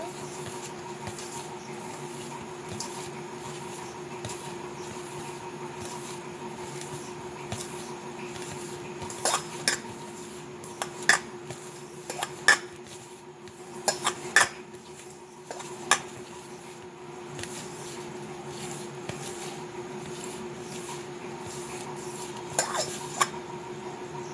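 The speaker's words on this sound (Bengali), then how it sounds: "আর একটু রিফাইন তেল দিতে হবে। দিয়ে খুব ভালোভাবে ময়ান দিয়ে নেব।" Flour is rubbed together with refined oil by hand for samosa dough, giving a steady soft crumbly rustle with intermittent sharper clinks and taps of a bowl or utensil, close up and alone.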